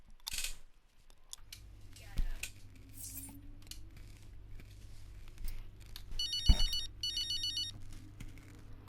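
Phone in F1 23 rings with a warbling electronic trill over a low engine-like hum, preceded by scattered clicks and rustles.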